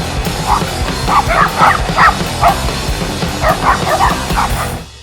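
A dog in an Ohio backyard yips and barks in short bursts, a string of sharp calls grouped in two clusters, fairly close and loud over low outdoor rumble.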